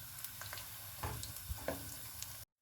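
Onions browning in a pan for chicken biryani, giving a soft, steady sizzle with occasional stirring scrapes and clicks. The sizzle is faint and close, then cuts off abruptly near the end.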